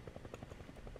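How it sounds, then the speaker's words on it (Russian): Half-Life 2 helicopter rotor chops in a fast, even pulse as the aircraft flies off, very faint and brief, with nothing else heard. "На вертолете полетел."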